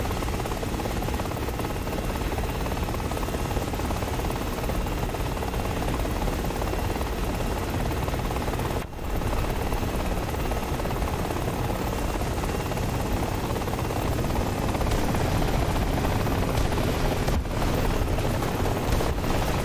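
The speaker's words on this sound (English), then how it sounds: "Again, the helicopter's like right here," A helicopter in the VR combat game Gazelle VR keeps up a dense, steady rotor and engine roar that fills the whole stretch, loud and close, with a few brief dropouts.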